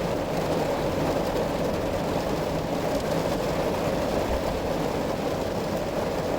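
Heavy rain pours down outside, a dense, steady roar of broadband hiss that holds constant throughout with no breaks, loud and close.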